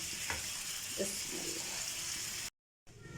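Tikka-sized chicken pieces fry in a pan with a steady, faint sizzle and a few soft stirring scrapes, cut off briefly by a gap of silence near the end.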